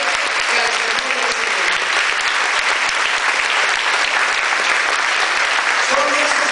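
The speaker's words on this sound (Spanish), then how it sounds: "Aplausos fuertes al Rey de Reyes y al Señor de" Loud, sustained applause from a church congregation at a family retreat, dense clapping filling the whole stretch with crowd noise, no talk over it.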